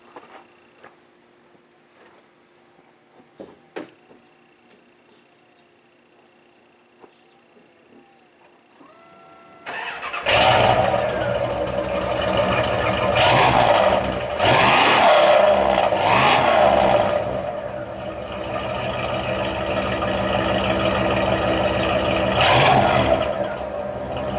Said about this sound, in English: This one sounds a little better because it has a hole in the muffler.